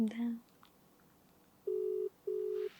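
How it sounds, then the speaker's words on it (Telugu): A short voice at the start, then a phone ringback tone pulses twice, a steady low double ring, clear against a quiet line. "రింగ్ అవుతుంది, చూద్దాం."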